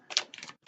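Hanson Roberts tarot cards get a quick shuffle, two brisk papery riffling bursts with a short gap and a third burst near the end, close and fairly quiet.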